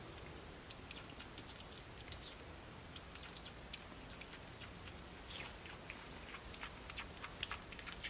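A monkey chewing a juicy watermelon, with soft wet chewing and smacking clicks repeating irregularly throughout, quiet and close, alone with no voices.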